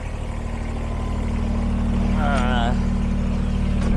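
Kubota BX23S compact tractor engine running steadily up close, a constant low throbbing hum with a brief voice heard over it.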